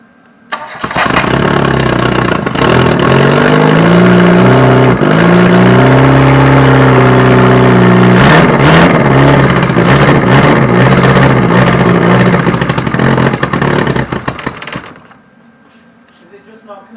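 A Reliant Robin engine with a disconnected exhaust roars to life and runs rough and raspy, revving unevenly with a harsh, blatting exhaust note for about fifteen seconds before cutting out.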